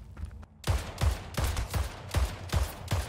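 Automatic gunfire in the video game Splitgate rattles off in a rapid, loud burst of about seven evenly spaced shots after a brief pause, each with a sharp crack and low thump.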